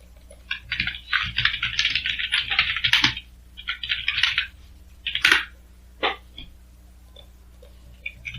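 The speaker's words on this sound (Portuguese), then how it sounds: "Você já pode continuar digitando aqui" Someone types on a computer keyboard while configuring an Oracle database upgrade, rapid clattering keystrokes in bursts with short pauses, close and clear, no talking.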